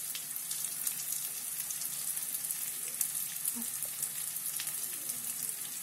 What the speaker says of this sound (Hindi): तो ये फ्राई हो रहा है अभी